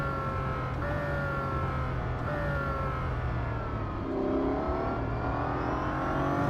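A Bugatti Centodieci in Real Racing 3, heard from inside the cockpit, revs hard through several gear changes, each climb in engine whine dropping sharply at a shift before rising again, loud and continuous with no voices.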